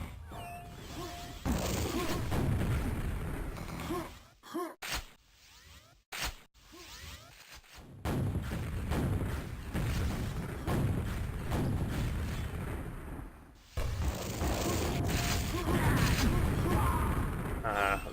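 Rocket launcher fire and heavy explosions crash through a QuakeWorld deathmatch, dense and loud with brief dropouts, while commentators talk over much of the action.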